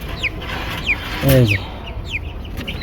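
Farmyard chickens, small Fayoumi and tiger-breed fowl among day-old chicks, cluck and cheep in short repeated calls, with someone speaking briefly close by over a steady background.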